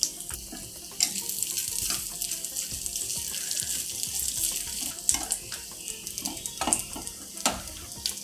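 Grated coconut pieces fry in hot ghee in a pan for a rice and lentil payasam, giving a continuous soft sizzle with bubbly crackle and occasional stirring scrapes, close and steady.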